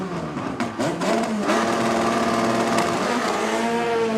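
Two drag race cars at an Import vs Domestic World Cup Final qualifying session roar loudly side by side, engines building from a rumble into a sustained, harmonic-rich howl that stays steady through the clip.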